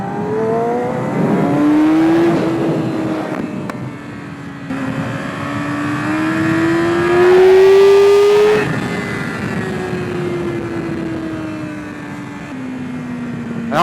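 A motorcycle being ridden accelerates hard through several gears, its engine note rising in pitch then dropping at each shift, loud and close with steady wind and road noise underneath.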